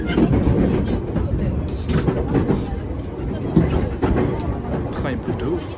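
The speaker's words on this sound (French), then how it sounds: "Le train il bouge de ouf." Tokyo metro train in motion, a steady rumbling and rattling of the carriage with rhythmic clacks, heard from inside with people talking over it.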